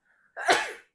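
A single sharp sneeze, close and fairly loud, preceded by a faint brief intake of breath.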